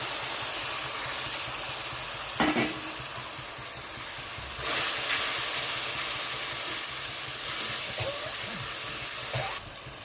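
Spice paste for a chenga fish curry sizzles steadily in a hot pan, a constant frying hiss with occasional stirring scrapes and a brief louder surge midway.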